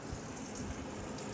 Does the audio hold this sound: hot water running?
yes